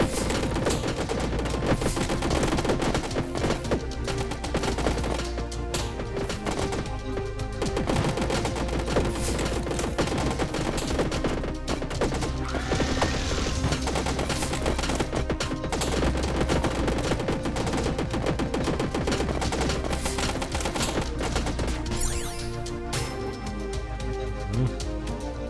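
Service rifle gunfire in the video game Alien Slayers: loud, continuous rapid-fire shots with dense repeated cracks sustained throughout, no speech over them.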